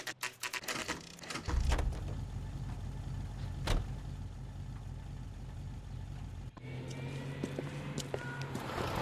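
Car pulling out of a driveway in the LA Noire video game: a low, rumbling engine close by, with thuds and a burst early on, shifting in tone near the end.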